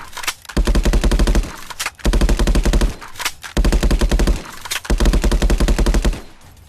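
Automatic gunfire in a VR first-person shooter game comes in four long, loud bursts of rapid, evenly spaced shots, each split by a short quiet gap.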